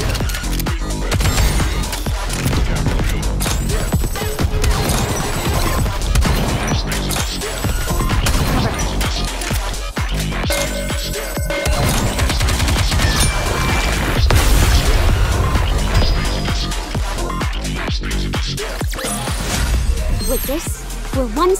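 Gunfire in the video game Goddess of Victory: NIKKE, dense bursts of shots and explosive crashes layered over game music, loud and continuous, with character voices talking over the action.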